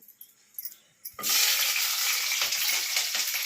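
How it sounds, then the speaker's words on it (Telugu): Ginger and garlic hit hot oil with a sudden loud sizzle after a few light clinks, then fry in a steady, dense hiss close by, with no talking. "అల్లం వెల్లిపాయలు వేసేసి అవి ఫ్రై అవుతూ ఉంటాయి"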